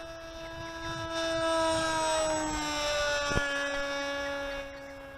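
Steady electric whine of a Rambler-X FPV flying wing's motor held at just over half throttle during low passes on a windy day, strong harmonic tones drifting slightly in pitch as the wing passes, with one brief sharp click midway.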